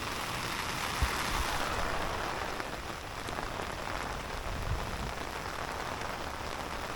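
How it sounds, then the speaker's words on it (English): Heavy rain drums on an umbrella overhead, a dense, even patter of close drops that continues unbroken at a moderate level. "Let me show y'all just how rainy it is right now."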